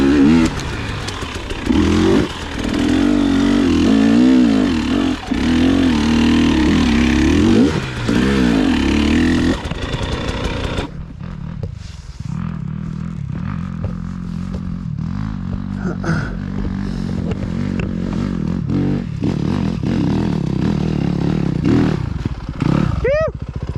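A dirt bike, either a 2021 Yamaha YZ250FX or a 2020 KTM 300XC, roars loudly on a trail with repeated throttle revs and rising and falling engine pitch. The rider's voice is heard over the engine.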